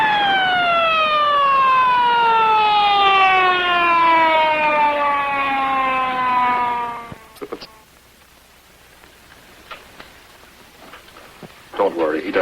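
An ambulance siren wails loudly with a rising and falling tone, then winds down and fades away. A quiet stretch follows, broken by a few scattered small noises.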